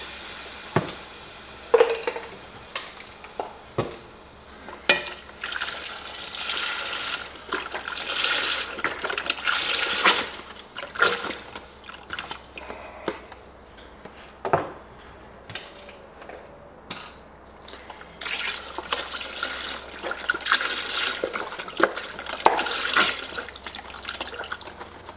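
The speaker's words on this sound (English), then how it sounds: "so let's start adding in our chicken broth. And I'm using 5 32-ounce containers of broth." Five 32-ounce containers of chicken broth pour into a pot of Cajun chicken and sausage gumbo, a steady splashing liquid stream running in long stretches, broken by brief knocks and creaks of the cartons and pot.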